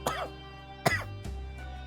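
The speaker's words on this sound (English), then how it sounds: "I gotta get all the coughs out now" Three dry coughs from one person, close to the microphone, spaced about half a second apart, the second the sharpest, with a low hum underneath.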